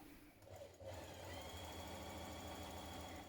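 Sewing machine stitching T-shirt side seams, a steady fast whirring hum running continuously after a brief start.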